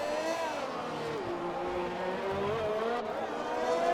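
Onboard engine of a Formula One-style racing car on soft tyres at Monaco in a racing video game, a loud, steady high-revving whine that dips and climbs in pitch through gear changes and corners.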